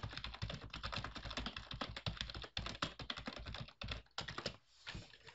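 A computer keyboard is used to type a message, giving a steady, rapid patter of close keystrokes with a few brief pauses, heard alone with no talk.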